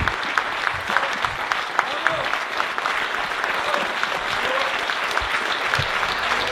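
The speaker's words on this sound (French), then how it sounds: "Mesdames et messieurs, je vous prie d'applaudir Rafik Smati et Éric Zemmour." A crowd at a political rally claps steadily and densely, a continuous wash of applause from a sizeable audience with scattered voices and cheers mixed in, sustained at even loudness throughout.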